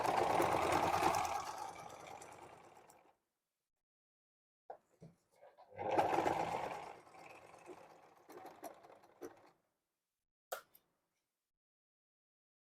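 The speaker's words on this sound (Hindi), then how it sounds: "अब हम यहाँ पे सिलाई लगाएंगे इस तरह से" A sewing machine runs in two close bursts of rapid, whirring stitching through fabric for a Laddu Gopal dress, separated by quiet pauses and a few small clicks and handling noises.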